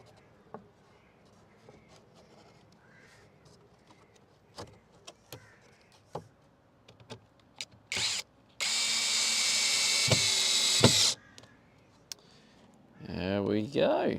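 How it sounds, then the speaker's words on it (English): A power drill runs in one sustained loud burst of about three seconds during a camper van build, preceded by scattered knocks and handling taps and followed by a short whirring burst. "You like the drilling sounds."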